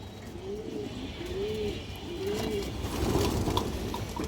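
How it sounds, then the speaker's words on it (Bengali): A female army-breed pigeon coos close by, three smooth rising-and-falling calls in a steady rhythm over a low background rumble. "সুন্দর আর্মি মাদি কবুতরটা"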